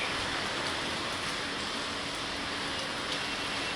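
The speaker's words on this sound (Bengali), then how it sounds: "প্রচুর পরিমাণ বৃষ্টি।" Heavy rain that has been falling since the night before pours down steadily outdoors in the early morning, a dense, unbroken hiss with no talking over it.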